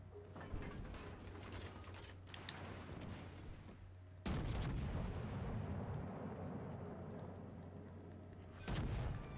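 Naval gunfire from a cruiser in the World of Warships Legends video game, heavy booming salvos over a continuous battle rumble, with a louder burst midway and another near the end.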